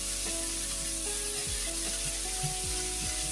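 Kielbasa sausage and potatoes sizzle in a pan, a steady dense hiss with a low hum beneath, broken by a few soft scrapes as the mixture is stirred.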